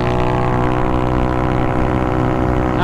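A motorcycle on a city street at night screams away under hard acceleration, a loud dense engine whine with stacked harmonics holding steady throughout, close and alone without talk.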